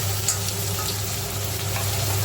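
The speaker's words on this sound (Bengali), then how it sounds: "আদাটাও তেলের মধ্যে ভাজা হয়ে যাচ্ছে" Potato, tomato and ginger frying in oil in a wok, giving a steady close sizzle with faint stirring scrapes and a low constant hum underneath, no voices.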